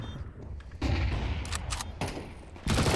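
Gunfire in the video game Counter-Strike 2, with bursts of rapid shots and booming blasts, a loud continuous volley in the middle, then a fresh burst at the end.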